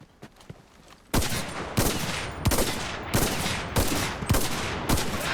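Rifle gunfire in the video game Enlisted: a quick burst of loud, close shots, each with a long booming tail, repeating at a steady, roughly even pace after a brief quieter opening.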